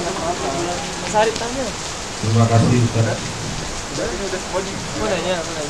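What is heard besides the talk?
rain falling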